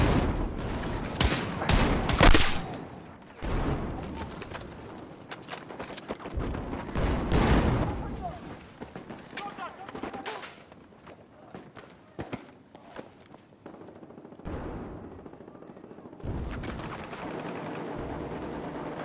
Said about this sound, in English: This is the only time I'm gonna be able to spam bullets.